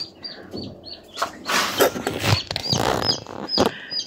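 Newly hatched chicks peeping in short high chirps, several in quick succession, close by, with rustling and handling noises in the background.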